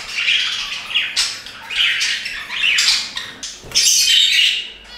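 Budgerigar in a bird room giving repeated loud, harsh squawks and chattering calls in quick bursts, close to the microphone with no talking.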